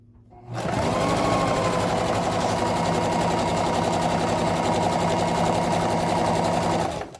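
A sewing machine stitches across a handbag, running steadily at full speed for about six and a half seconds after a brief quiet start, then stopping abruptly; no one speaks.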